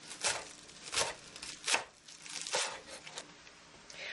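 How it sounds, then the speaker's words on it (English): A knife thinly slicing half a dozen scallions, including some of the green, on a cutting board: a run of crisp, irregular cutting strokes close up, with no talk. "I am going to slice about half a dozen scallions. Just thin slices there."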